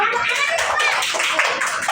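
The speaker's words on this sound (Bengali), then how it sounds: "ওর জন্য হাততালি দাও" Schoolchildren in a classroom clap together in a dense burst of overlapping hand claps, close and fairly loud, with no talk.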